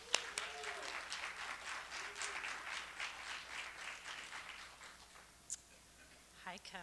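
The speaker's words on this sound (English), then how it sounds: "keep that applause going because the wonderful author herself is coming out to the stage." Audience applause as an author takes the stage at a small book event, a faint, steady patter of hands heard from a distance, tapering off toward the end.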